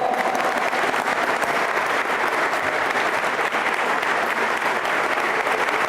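Sustained applause from a large audience honoring scholarship award recipients at a DeKalb school district and chamber of commerce ceremony, a dense, steady wash of clapping that holds evenly for the whole stretch.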